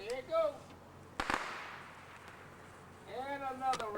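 A miniature toy rocket launches with one sharp pop-and-whoosh burst, loud and brief, set between bits of nearby talk.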